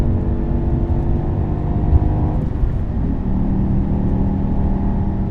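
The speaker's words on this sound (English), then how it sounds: "The engine feels so happy in high revs." A BMW E60 M5 with a manual gearbox holds its engine at high revs, giving a steady, loud, close drone that shifts pitch slightly midway, with no talking.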